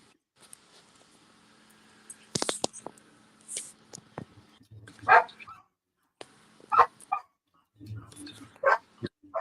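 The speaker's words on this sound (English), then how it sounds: "Dogs are going crazy." Several dogs bark in repeated bursts, near and loud, with yips and whimpers between barks, some clattering sounds early on and faint background noise underneath.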